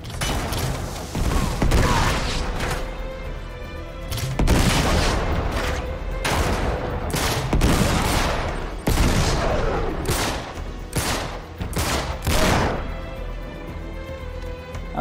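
Enemies fire from afar in Uncharted 3: repeated loud bursts of gunfire and booming impacts crack out at irregular intervals over about fifteen seconds, with occasional faint speech.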